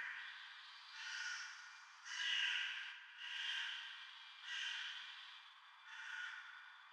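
A crow caws outside a window, heard from inside a room: five or six drawn-out, raspy calls in a steady rhythm, fairly faint and distant, with the low end filtered away.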